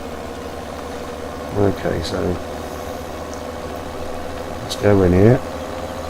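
Tractor engine idling in the Farming Simulator 17 video game, a steady low drone running throughout at moderate level, with someone speaking briefly over it.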